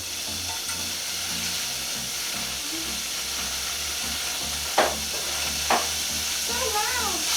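Berries and water sizzle in a hot saucepan, a steady frying hiss throughout broken by two sharp bursts of spitting steam, with faint sounds of stirring.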